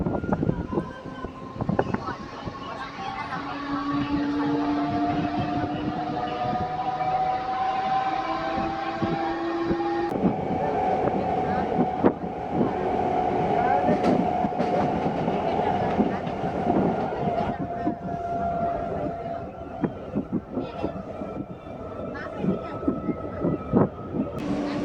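An Anantapur–KSR Bengaluru MEMU train runs with a continuous rumble and rhythmic clickety-clack of wheels on rails, heard from inside the carriage, with a few faint voices.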